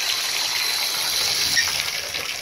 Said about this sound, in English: We'll go turn on our hot water.